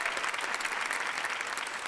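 A studio audience at a Marathi comedy show claps heartily for a guest, a brief, dense, even burst of applause with no talking over it.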